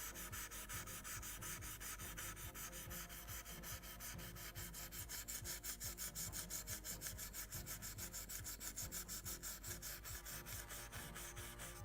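A Scotch-Brite pad rubs over the wooden planking of a 1:76 scale Model Shipways Mayflower (1620) kit hull, making close, steady, rhythmic scrubbing strokes that continue throughout with no talking.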